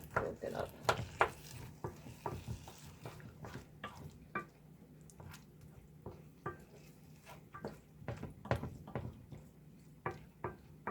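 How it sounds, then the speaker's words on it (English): A spoon stirs a ground beef mixture cooking in a pan for beef empanadas, with soft scraping clinks at an uneven pace over a faint, steady sizzle, close but quiet. "Stir this all together. We'll let it cook down a little bit."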